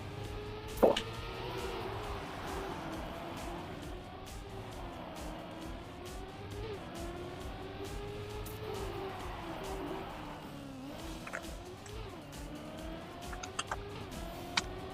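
Video game car in Trackmania driving steadily, with a continuous engine drone that rises and falls through turns and brief tire-slide sweeps while drifting, plus occasional clicks and taps in the background.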